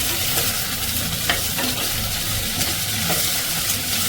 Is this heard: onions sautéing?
yes